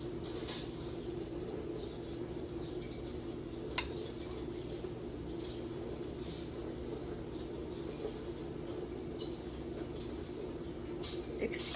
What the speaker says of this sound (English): Excuse the noise in the background, that's the dishwasher going.